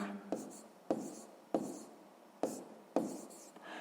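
A pen writes numbers on paper, giving five distinct scratchy strokes in an irregular rhythm, close and quiet, with no talking.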